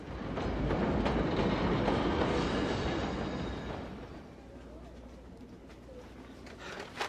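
A train rumbles loudly along the rails, a dense steady roar that gradually eases and thins out toward the end.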